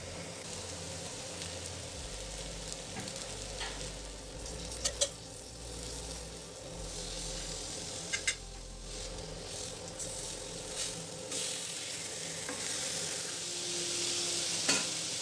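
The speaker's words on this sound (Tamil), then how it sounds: "அடுத்து அந்த மீன் துண்டுகளை ஷாலோ ஃப்ரை பண்ணிக்கலாம்" Fish pieces shallow frying in a pan of oil give a steady, close sizzle that runs unbroken throughout, with a few faint clicks of stirring or turning.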